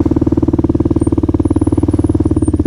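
A Kawasaki KLR 650 single-cylinder engine thumps at a steady idle close by, a fast, even pulsing putter with a faint high whine above it.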